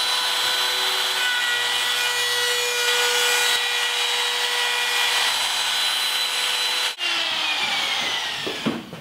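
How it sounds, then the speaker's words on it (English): An electric router fitted with a roundover bit runs along a rosewood edge, a loud continuous high whine with steady tone, shifting pitch briefly as the cut ends and the motor spins down. "I'm gonna put a roundover bit in my router and just soften this edge a little bit"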